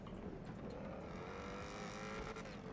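A Bugatti supercar racing down a giant ramp in GTA 5: a continuous engine roar with a rising, straining whine and faint tire noise, steady and fairly close throughout.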